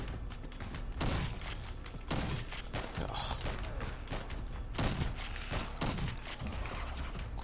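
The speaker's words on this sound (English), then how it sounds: "And now we have the minigun again" Minigun firing in R.I.P.D. The Game, repeated loud bursts of rapid mechanical gunfire with short gaps between volleys, close and harsh, no talk.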